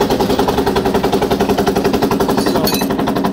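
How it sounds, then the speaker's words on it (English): A Welch 1374 DuoSeal belt-drive rotary vane vacuum pump, thought to need a rebuild, runs with a loud, fast, steady chugging pulse, close up and alone. "But I'll let you hear it run. It, I'm going to say needs a rebuild"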